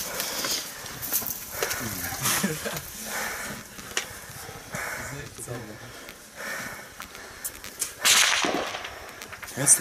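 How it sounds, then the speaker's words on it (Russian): Gunfire during combat in Nikishino comes as a series of sharp, cracking reports, some near and some more distant, spread irregularly over the scene. Muffled voices and movement noise are heard between the shots. "Стреляют по нам."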